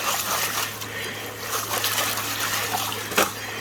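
Quartz rocks are rinsed and scrubbed with water on a sluice mat during gold prospecting, with close splashing, trickling and sloshing over a steady low hum and a sharper splash near the end.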